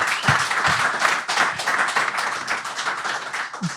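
An audience at a horse racing festival preview event applauds a guest, a bricklayer and amateur footballer, with dense, steady clapping that fades briefly midway and then picks up again.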